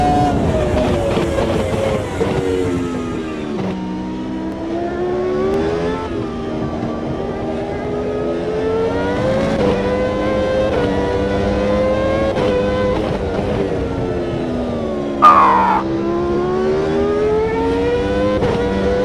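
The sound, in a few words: Toyota Formula One car engine in racing video game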